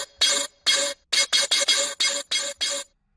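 A synth bass patch with heavy drive and full mix plays a low note, repeated as about nine loud, gritty, buzzing bursts in a choppy rhythm with sharp gaps between them.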